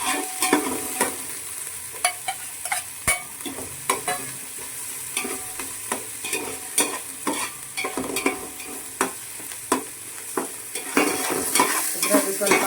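Chopped chili and ginger frying in a pan for a Mangalorean-style tuna fish curry, with a constant sizzle and irregular scraping, clinking stirs of a utensil against the pan, close and clear with no voices.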